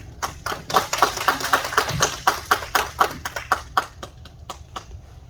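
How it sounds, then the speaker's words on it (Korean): Symposium audience applauding to welcome a professor's lecture: a run of distinct, fairly sparse hand claps, uneven in rhythm, thinning out toward the end. "큰 환영의 박수 부탁드립니다"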